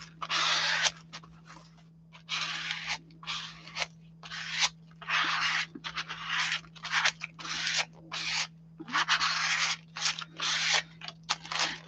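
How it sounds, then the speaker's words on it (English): A scraper drawn gently over paper on a cover made from a food box, giving repeated close, dry scratchy strokes in short bursts with brief pauses between them and a low steady hum underneath. "Now I'm going to try to gently scraper it to get out any air pockets."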